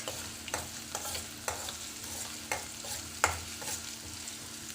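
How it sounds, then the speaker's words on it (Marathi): Sliced onion sautéing in a pan over a high flame for cabbage and peas sabzi, a soft steady sizzle broken by several sharp scrapes of a stirring spoon, quiet and close with no talking. "आता आपला हा कांदा थोडा परतून झालेला आहे"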